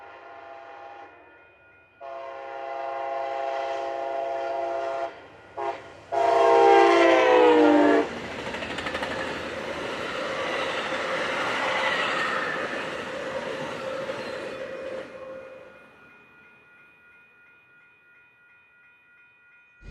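A train passes near the station in San Jose, opening with a loud horn blast and a sharp screech, then a long rumbling roar that fades away as it moves off.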